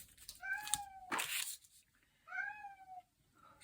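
A domestic cat meows twice, close and clear, with a rustling scrape between the two calls in a quiet room.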